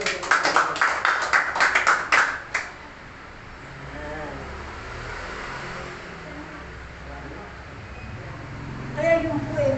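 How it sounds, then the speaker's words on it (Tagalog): A church congregation bursts into loud, dense applause that lasts a couple of seconds, then dies away into a low, steady room hum with faint talk returning near the end. "Malakas na palakpak sa ating Panginoon."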